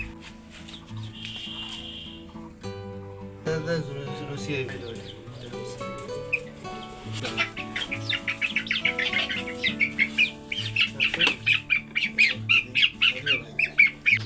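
Sick chickens that cannot walk squawk and cluck close by, the calls growing into a quick, rhythmic run of loud squawks near the end, with a person talking at times.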